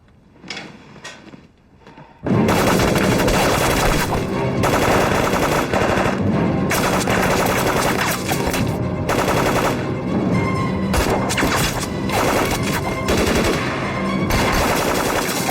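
Sustained, dense automatic gunfire from machine guns in a war drama battle scene, erupting loudly after a couple of quieter seconds and continuing almost without pause to the end, with rapid overlapping bursts.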